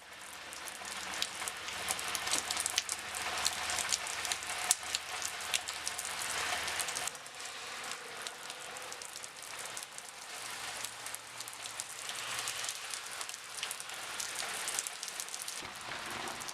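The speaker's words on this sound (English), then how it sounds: "It is a nice rainy day here in Upper East Tennessee" Steady rain falls on a rainy day in Upper East Tennessee, a soft, even hiss of drops pattering on surfaces that continues throughout at a moderate distance, with no voices.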